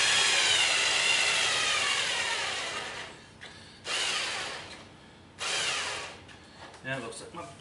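A power drill runs during a milling machine DRO scale installation, a steady loud whir that cuts out, then returns in two short bursts before stopping, with brief speech near the end.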